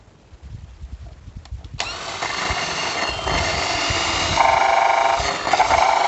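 A power drill fitted with a hole saw bores out the center of a 1.5 to 3 inch PVC bushing, starting abruptly after a quiet lead-in and growing into a loud, steady grinding whine that rises in intensity.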